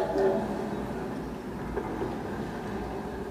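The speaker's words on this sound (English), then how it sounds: "Whenever I hear that train coming into town, I always get a feeling of excitement in here." A stage sound effect of a train approaching town during a Broadway production of Picnic: a steady low rumble that holds for the whole stretch at moderate level, with faint murmuring underneath.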